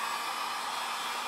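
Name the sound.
heat gun running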